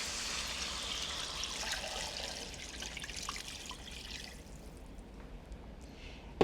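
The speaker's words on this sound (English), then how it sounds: "then you're ready to add some water." Water poured into a pan of browned chicken for soup, a steady broadband pouring and trickling wash that gradually thins and fades, ending with a brief knock.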